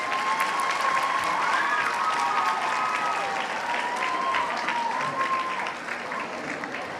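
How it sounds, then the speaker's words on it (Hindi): An audience applauds for children at the inauguration of state school games: dense, sustained clapping from a large crowd, steady for several seconds and easing slightly toward the end, with a faint tone and crowd murmur beneath. "एक बार इन सब बच्चों के लिए जम के तालियां बजा दीजिए आप लोग"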